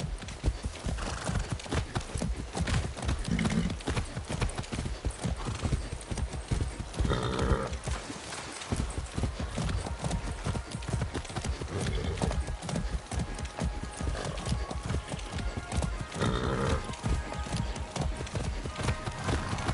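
Video-game horse hooves in Far Cry 6 clip-clop in a brisk, steady rhythm close by, with the horse whinnying now and then.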